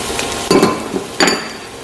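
Onion frying in oil with curry leaves in a pan, a steady sizzle broken by two louder bursts of stirring and clinking near the middle and later on, with no talk.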